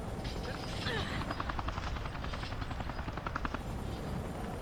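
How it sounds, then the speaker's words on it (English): Helicopter rotor chop from the video game Resident Evil 5, a steady rhythmic thudding that stays close and fairly loud throughout, mixed with game background noise. "Was that Josh manning the helicopter?"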